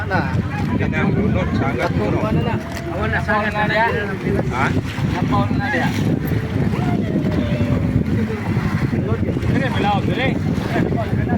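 A boat engine drones loudly and steadily amid wind buffeting, while several people talk over the continuous mechanical rumble.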